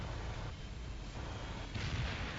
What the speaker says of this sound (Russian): А сейчас по нему уже пошла ракета